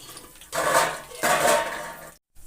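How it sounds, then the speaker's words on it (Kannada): Two bursts of water poured into the same pot used to roast semolina and cashews for kesari bath, close and steady, each lasting under a second, with a brief silence near the end. "ಅದೇ ಬಟ್ಲಲ್ಲಿ ನೀರು ಹಾಕ್ತೀವಿ"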